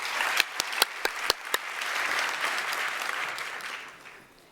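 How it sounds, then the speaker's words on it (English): Applause rises in a university hall after a performance, opening with several sharp, separate claps before swelling into a dense, even roar of clapping that fades away toward the end. "that performance deserves another round of applause"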